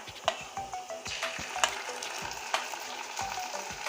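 Garlic paste frying with browned onions in a pan, an even sizzle with rhythmic spatula scrapes and knocks at regular intervals, close and moderately loud.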